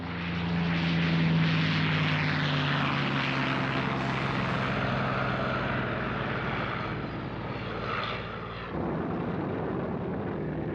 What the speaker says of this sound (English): His B-29s now had the benefit of long-range escort fighters,